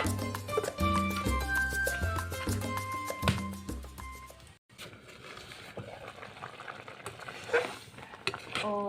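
Music plays first. A metal lid then clinks onto a pot of simmering spinach dock with small fish, with scattered utensil clatter and bubbling.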